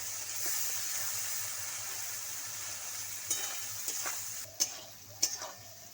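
Spice paste with turmeric and salt, cooked down until the oil separates, fries in a pan with a steady soft hiss, followed by a few sharp stirring scrapes and clacks near the end.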